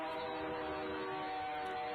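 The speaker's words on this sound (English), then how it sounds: "a loaded coal train going up to central Wisconsin" A loaded coal train led by a single UPGE locomotive passes through downtown Guttenberg and sounds its horn. The horn comes as a steady, fairly faint chord from a distance over a low rail rumble.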